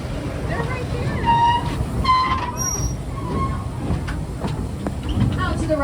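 A Busch Gardens Tampa Bay park train rolls along its rails with a steady rumble, metallic wheel squeals and light clatter up close, while people on board chatter in the background.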